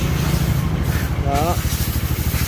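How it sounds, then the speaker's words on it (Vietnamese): A Ducati 110 motorcycle engine idles smoothly, a low steady rhythmic putter running throughout beneath someone speaking briefly. "Đó, xe đang nổ máy anh em. Nổ máy cực kỳ êm luôn nhá."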